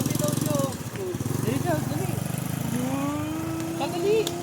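A motorcycle engine idles and revs close by, its uneven putter rising and falling under loud conversational voices throughout.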